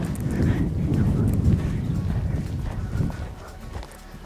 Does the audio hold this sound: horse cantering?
yes